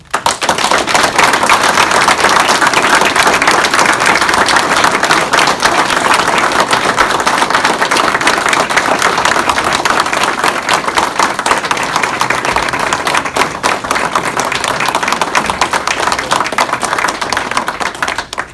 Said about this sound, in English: I would ask that you please join me in giving a round of applause to our newest Republican officials.